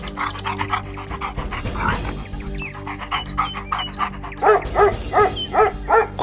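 A sniffer dog following a scent in an animated Hindi village moral story pants loudly and rhythmically up close, with quick breathy bursts that grow stronger toward the end.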